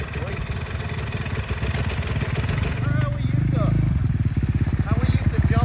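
A motorcycle engine revs and putters nearby while the rider pulls a wheelie, its rapid firing pulses growing louder and more insistent toward the end, with people talking over it throughout.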